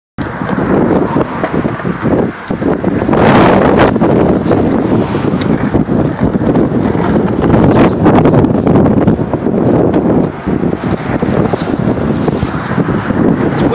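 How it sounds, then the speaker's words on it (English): Strong wind gusts roar across the microphone outdoors in a yard, a loud, continuous buffeting rush that swells and dips for the whole stretch with no one speaking. "Windy as shit out here."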